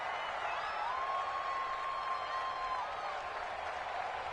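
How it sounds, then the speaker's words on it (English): Steady stadium crowd roar from a PS4 American football video game, a loud, continuous wash of noise filling the whole stretch, with a faint sustained tone running through the middle. "The crowd's not doing that O-line any favors."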